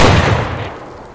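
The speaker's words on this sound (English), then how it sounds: "That gun's so loud" A loud gunshot in DayZ, one sharp heavy blast right at the start that decays over about a second into a fading rumble, with no voices.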